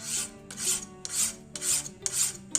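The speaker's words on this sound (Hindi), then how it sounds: "दोस्तों देख रहे हो मैं किस तरीके से रेती घिस रहा हूँ।" A metal file rasps back and forth on a chimta (fire tongs), giving five steady, close grinding strokes in an even rhythm with no talk.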